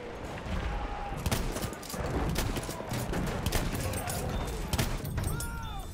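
Model 10A Hunter shotgun fired in the video game Battlefield 1, with repeated sharp gunfire blasts over a busy battlefield mix of explosions and ambient noise throughout.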